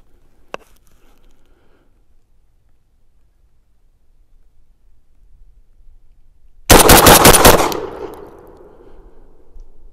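A Rock Island Armory VR80 magazine-fed 12 gauge shotgun fires a quick loud string of roughly eight shots outdoors, ending in a decaying echo after a near-silent lead-in with one faint click.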